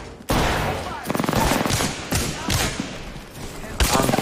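Incoming gunfire striking the player in Apex Legends, several loud close bursts of rapid shots separated by short pauses, with the game's sounds layered over them.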